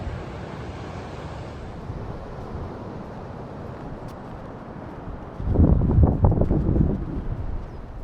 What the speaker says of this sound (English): the wind has been very strong in the last week or so